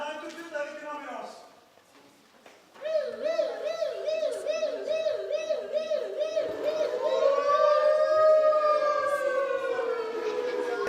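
Improv performers on stage vocally imitate an ambulance siren, a wavering two-tone wail that rises and swoops, sustained for several seconds and joined by other voices, after a brief spoken lead-in.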